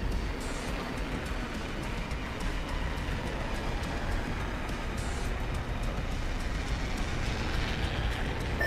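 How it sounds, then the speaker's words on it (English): A train rumbles past in the video game Apex Legends, a loud and steady roar of rolling wheels and rail noise that holds for several seconds with no talk over it. "Train over there."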